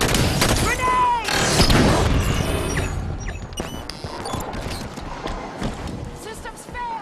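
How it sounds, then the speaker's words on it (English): In Halo 5: Guardians combat, a grenade goes off with a loud, booming crash. Debris and gunfire clatter on afterward, and game voices talk over the fading noise. "Grenade!"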